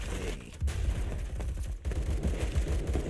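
A Saiga-12 automatic shotgun fires rapid repeated blasts in a Roblox test place, a dense burst of shots at close range with no talking.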